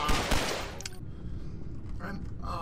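Rapid gunfire bursts in a horror video game, loud, sharp cracks packed into the first second, then fading into quieter game ambience with scattered small sounds.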